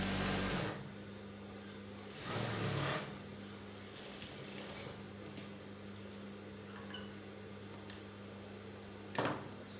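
A sewing machine stitches stretchy fabric for a shift dress, a quiet, steady mechanical whir with short louder bursts as the stitching speeds up, ending in a small clatter.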